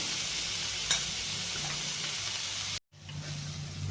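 Onion softens in a little oil in a pan, giving a soft, steady sizzle close by, then a brief moment of silence before the frying hiss resumes.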